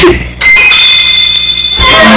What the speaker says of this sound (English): We're just like a buzzer like your mom has.